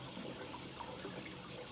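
Water runs and splashes steadily in a darkroom tray as a photographic test strip is rinsed, a continuous close wash of liquid with no voices.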